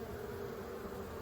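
Bees buzz steadily from a hive that has just been vacuumed out, a dense low drone of many insects heard close and continuous, with no talking.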